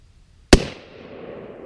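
A single sharp, loud rifle shot fired at a steel target outdoors, a sudden crack followed by a fading echo and low rumble.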